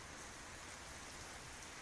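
Steady rain pours on a rainy night, a dense, even wash of droplets that holds constant throughout with no voices.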